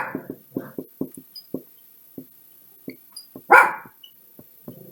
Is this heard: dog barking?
yes